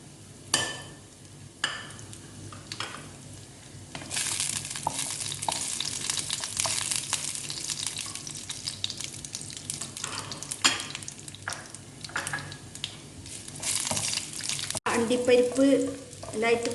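Cashew nuts fry in ghee in a kadai with a soft, steady sizzle, and a spatula scrapes now and then. The frying grows louder and denser after a few seconds and stays close throughout.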